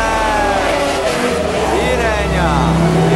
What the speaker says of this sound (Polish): Dobry dźwięk tych silników.